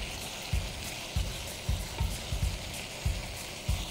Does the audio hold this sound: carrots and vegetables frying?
yes